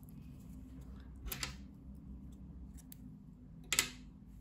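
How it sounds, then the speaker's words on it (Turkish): Scissors snip through knitting yarn in two quick, faint cuts against a low background hum, with no talking. "İpliği kesiyorum."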